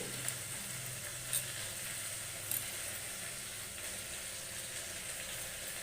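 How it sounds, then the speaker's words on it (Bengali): Whole cumin seeds sizzle steadily in hot oil, a faint continuous frying hiss with a few soft clicks and no voices. "এখানে দেব দু চামচ মতন গোটা জিরে"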